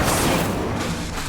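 An Incendio fire spell is cast in the video game Hogwarts Legacy, a loud, close whooshing burst of flame that roars at once and then thins out over about a second.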